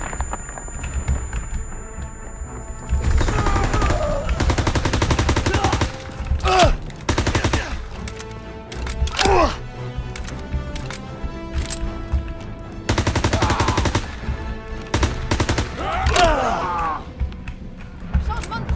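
Gunfire in the Call of Duty WWII video game, in a World War II combat setting: loud bursts of automatic fire and single shots come in clusters with short pauses between them.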